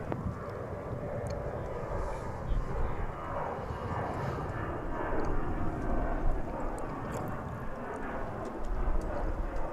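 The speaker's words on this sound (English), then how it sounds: "So 787-9 Dreamliner on final approach to runway 36 left." A Boeing 787-9 Dreamliner on final approach to runway 36 left at DFW International Airport, a steady broadband jet roar held at a constant level from a distance with no voices present.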